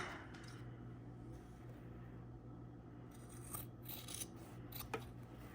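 Scissors trim sewn waistband fabric on a sewing project, giving steady quiet cutting and rasping close by, with a few sharper snips near the end and no talking.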